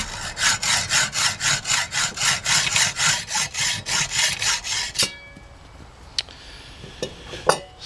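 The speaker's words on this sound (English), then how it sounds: "And then I take my hacksaw" A hacksaw cutting through a 2-inch threaded bolt, with steady rhythmic back-and-forth rasping strokes close up, stopping midway and followed by a few faint knocks and clicks.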